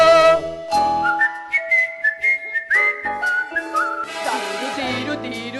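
A person whistles a lively melodic tune in a children's school theatre play, with clear sliding and held notes that rise and fall, followed by a brighter, busier passage with no talking.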